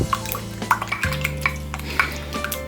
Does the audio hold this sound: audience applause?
no